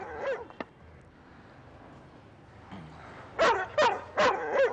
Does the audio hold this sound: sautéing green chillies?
no